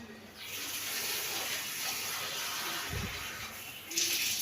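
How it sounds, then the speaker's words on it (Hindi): Water poured into a kadai of beef nihari while cooking, a steady soft hissing gush that swells louder near the end, with a brief low thump partway through. "इसको मैं पकने के लिए रखती हूँ और पानी डालती हूँ।"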